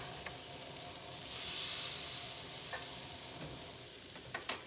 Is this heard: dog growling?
no